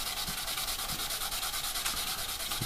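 A sanding sponge rubbed lightly over filler on a Hasegawa 1/48 Draken model aircraft kit, giving a close, steady scratchy rasp with a faint rhythmic back-and-forth pulse and no talking.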